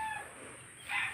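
Chickens penned up on a rice-growing farm give short clucks and a crowing call, fairly near and moderately loud, with the sound swelling toward the end.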